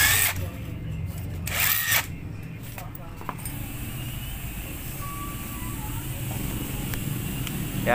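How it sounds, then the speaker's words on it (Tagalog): Power-tool bursts loosen the bolts on a Honda XR 200 motorcycle cylinder head: two or three short, loud whirring spurts near the start, then a low steady hum with voices in the background. "Yan, nakakalas ko na yung mga tornilyo sa kanyang cylinder head."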